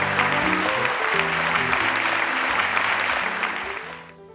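A crowd claps in sustained, dense applause at a Miss Sicilia beauty pageant in Ispica, Sicily, fading out near the end, with music playing underneath.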